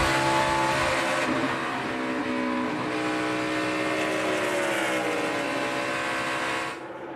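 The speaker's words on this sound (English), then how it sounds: "Jeff Gordon roared by Kevin Harvick into the race lead" NASCAR stock cars roar past in the Brickyard 400 at Indianapolis, a loud continuous engine drone with pitch rising and falling as the pack passes, fading abruptly at the end.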